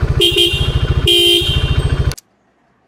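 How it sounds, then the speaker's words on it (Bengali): A loud Denso motorcycle dual horn honks in two close blasts, the second one long, over an idling engine's fast putter that cuts off abruptly. "ডুয়েল হর্নটা কানেক্ট করছি ডেন্সো হর্ন"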